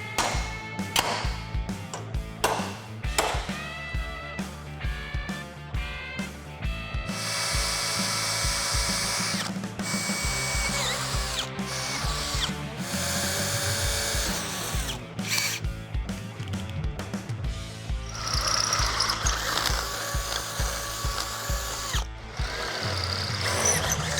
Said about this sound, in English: drill those holes, bolt her in there